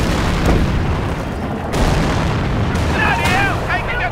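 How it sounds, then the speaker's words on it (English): An artillery barrage in the Company of Heroes war game, the Liberation of Caen battle, thuds out in heavy booms and blasts, with game voices and effects mixed in. "prepare barrage. Fire when ready."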